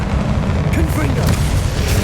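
A fiery Confringo spell explosion in the video game Hogwarts Legacy bursts with a heavy booming roar under continuous loud combat noise and a voice.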